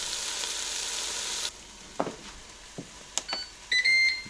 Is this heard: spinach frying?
yes